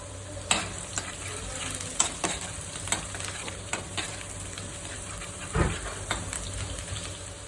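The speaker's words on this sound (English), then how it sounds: "So now the garlic and green chilies are fried." Finely chopped garlic and green chilies fry in oil in a street-food kitchen, a steady close sizzle punctuated by regular scraping strokes of a utensil against the pan, no voices.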